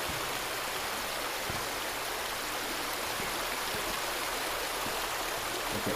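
Water gushing out of an outlet in the Resident Evil 2 video game, a steady, dense rushing like a stream or small waterfall, continuous and fairly loud with no talk over it.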